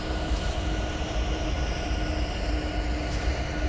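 A Norfolk Southern SD60E freight train in Train Simulator 2019 hauls heavy ballast down a 1.8% grade at Horseshoe Curve, giving a steady, loud, continuous rumble of engine and rolling wagons with a low drone throughout.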